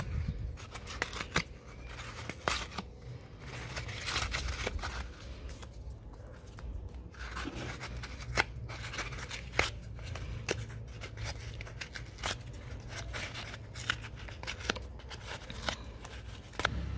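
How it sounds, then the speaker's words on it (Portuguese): Scissors snipping through cardboard egg carton material, a steady series of sharp close cuts with rustling of the pieces between them. "picotar ou cortar esse material aqui para misturar no vaso da sua"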